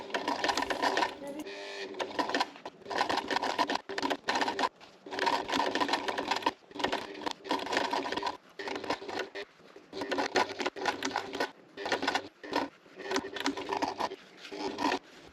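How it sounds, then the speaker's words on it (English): A sewing machine stitches motorcycle seat cover fabric in fast rhythmic bursts, broken by short pauses and back-stitches, close and steady throughout. "A couple back stitches to secure the stitch, and then sew till the end"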